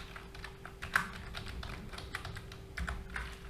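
Quiet typing on a computer keyboard, irregular bursts of soft key clicks over a faint steady electrical hum.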